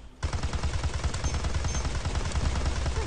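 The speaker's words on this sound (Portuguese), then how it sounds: "O tiro da sniper." Rapid gunfire from the video game Ace Force, a dense continuous burst of shots starting abruptly and holding steady and loud for the rest of the moment.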